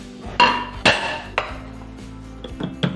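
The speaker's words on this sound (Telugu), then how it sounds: "మనం ఇప్పుడు ఈ ప్లేట్లో వేసుకుందాం" Rice-milk halwa being served onto a plate, a few loud metallic knocks and clinks of a utensil against the dish spaced unevenly, followed by quicker lighter taps, close and alone.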